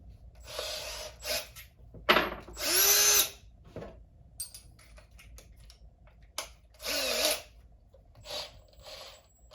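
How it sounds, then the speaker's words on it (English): A Milwaukee power drill whirs in several short bursts, spinning up and stopping, with clicks and handling noises between runs. "Now we're going to start drilling real quick."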